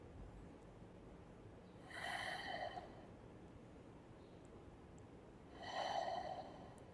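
Two deep, audible breaths taken during a yoga back stretch, each a soft airy inhale-exhale with a short pause between, heard close and quiet.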